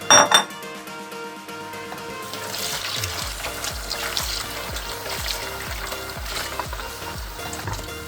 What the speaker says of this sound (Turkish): Fındıklarımı şöyle bir tabağa alıyorum. Derince.